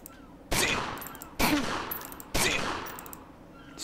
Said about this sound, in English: Squiggs is about to get fetched full of shotgun.